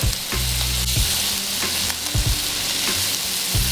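Filet mignon searing in a pan with butter, a loud continuous sizzle and crackle close up, with occasional thumps and scrapes of the pan, no voices.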